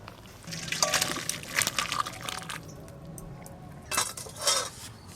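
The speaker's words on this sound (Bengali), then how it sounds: "মাছ দেওয়ার পর ঝোলের মধ্যে একটু মাছগুলো ভালো করে ফুটিয়ে নিয়েছি, এবার ঢেলে নেব।" Fish curry with potatoes is poured from a pot, giving a soft liquid slosh mixed with light clinks of metal utensils and cookware, quiet and close, in two short bursts.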